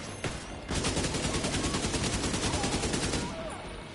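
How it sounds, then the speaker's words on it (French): Sustained automatic fire from a K-47 rifle in the video game The Division 2, a rapid, even burst of loud shots lasting about three seconds after a single shot, with no talk over it. "Il n'y a pas trop de recul, ce flingue, visiblement."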